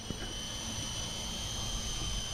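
An unbranded toy RC helicopter strains against strong wind outdoors, giving a steady high motor whine with buzzing tones over a constant rush of wind noise, continuous and moderately loud.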